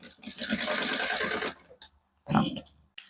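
Sewing machine slowly topstitching a seam on a fabric pencil case, a steady rattling run for about a second and a half, then brief stops and short restarts.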